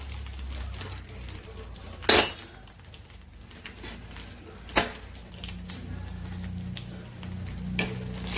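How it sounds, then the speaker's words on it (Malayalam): Mustard seeds and dried red chillies sizzling in hot oil in a pan for a traditional Kerala curry, a low steady fry with a few sharp utensil clinks and stirring scrapes. "ഇനി അല്പം കടുക് ഇട്ട് കൊടുക്കാം"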